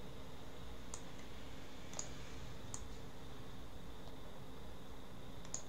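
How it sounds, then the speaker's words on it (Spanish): A computer mouse clicks while copying cells in an Excel spreadsheet, giving a few crisp, isolated clicks about a second apart, close and faint over a steady hiss. "Copio, clic derecho, copiar."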